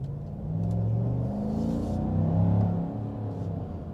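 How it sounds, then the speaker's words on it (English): A 2024 GMC Sierra 1500 Denali Ultimate's 6.2L V8 engine and exhaust growl steadily on a test drive, a deep, loud rumble that swells slightly as the truck pulls along the road. "The growl of a V8 with some really great exhaust,"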